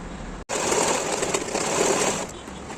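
A sewing machine runs a quarter-inch seam on a school tie, starting after a brief pause with a steady, close, whirring stitch that continues evenly for about two seconds before easing off.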